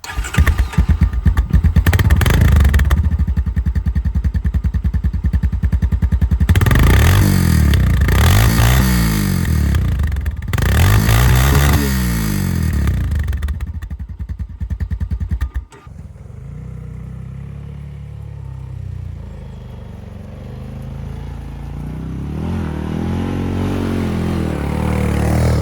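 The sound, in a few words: Honda Recon ATV engine starting and revving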